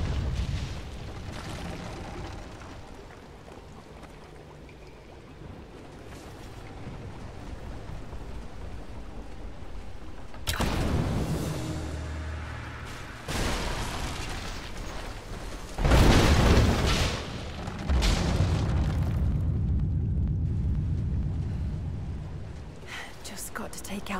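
A Greek fire vessel erupts in Rise of the Tomb Raider, with a sudden loud blast and a second heavy roaring burst rising over rumbling game ambience; a voice is heard at times.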